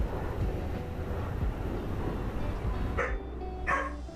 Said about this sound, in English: Oh, there's them dogs.